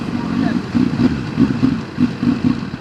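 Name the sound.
CFMoto 750SR sportbike engine running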